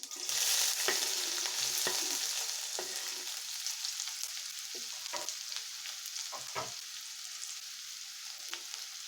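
Finely chopped onion hitting hot oil with spluttering mustard seeds, a loud burst of frying that settles into a steady close sizzle, with scattered clicks and pops and a few utensil taps.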